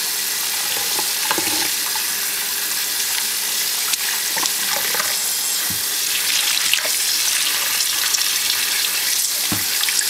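Running tap water splashes steadily into a sink, a close continuous hiss with small sloshing bursts as dyed wool/acrylic yarn is rinsed under the stream.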